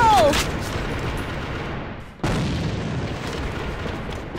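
A grenade blast in a multiplayer shooter game booms and rumbles at the start, and a second sharp explosion hits about halfway through, each leaving a long rolling tail of noise beneath a brief voice.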